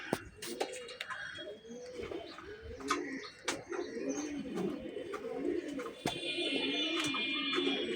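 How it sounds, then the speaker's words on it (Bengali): A pair of large tota pigeons cooing at close range, soft repeated throaty coos rolling on steadily, with occasional sharp clicks and knocks around them. "এই হচ্ছে এক পেয়ার তোতা কবুতর, বিগ সাইজের তোতা কবুতর।"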